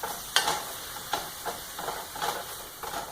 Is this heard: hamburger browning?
yes